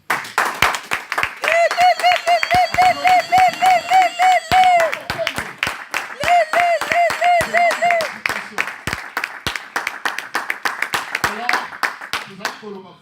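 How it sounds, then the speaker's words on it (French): A crowd at a Congolese UDPS political rally claps in a strong, rhythmic unison beat, sharp regular hand claps driving on while voices chant and sing loudly over them. "Applaudissez pour cet homme."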